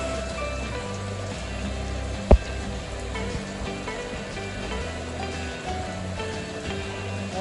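Rain falls steadily on a ranch, a constant even patter on surfaces with a low hum beneath it. A single sharp knock sounds partway through.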